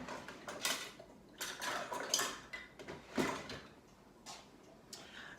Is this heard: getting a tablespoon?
yes